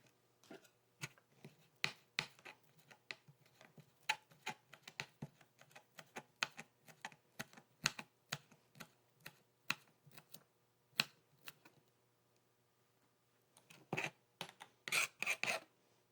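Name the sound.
knife chopping fresh parsley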